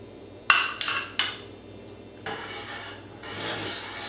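A spoon clinks against a pot and scrapes through Thai chicken coconut soup as lime juice and cilantro are stirred in, a few sharp knocks followed by steady swishing, close by.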